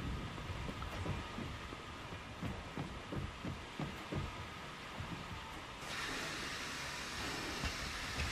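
A train in the video game Mafia 2 runs with a steady rumbling rail noise and faint rhythmic clicking of wheels, a quiet continuous mechanical drone that brightens partway through.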